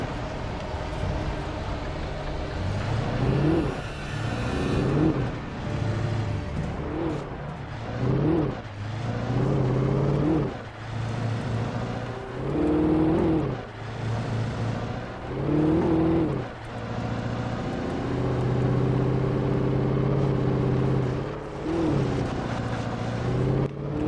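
A car drives in the video game Alan Wake, its engine revving and surging in repeated waves of acceleration and easing off, fairly loud and continuous with no talking over it.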